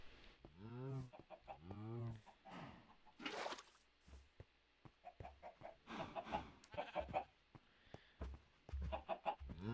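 Minecraft farm animals call in short bursts: chickens cluck, and bleating sheep- and goat-like cries mix in, close and moderately loud, with a quiet voice briefly underneath.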